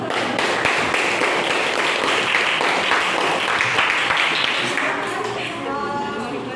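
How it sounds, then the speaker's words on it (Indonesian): An audience claps together after a presentation, a dense, steady wash of applause that holds at fairly even loudness for several seconds before easing slightly, with a faint murmur of voices beneath. "kasih tepuk tangan dulu"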